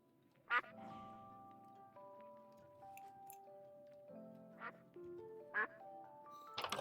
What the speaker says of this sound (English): all the ducks just crowed with the sunrise